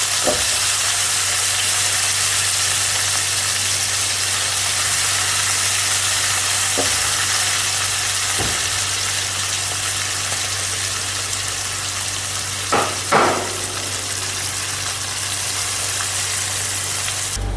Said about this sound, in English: add sliced onions and fry them over a medium flame until they are nicely browned